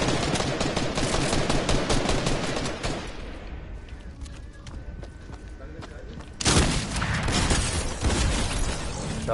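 Rapid bursts of video game gunfire, dense and loud, pausing briefly before another heavy volley, with talking over it.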